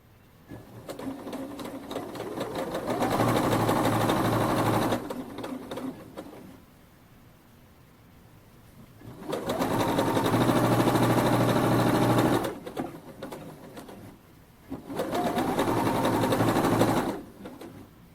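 A sewing machine stitches seams joining fabric to a knitted blouse. It makes three long runs of steady whirring, close and loud, with quiet gaps between them.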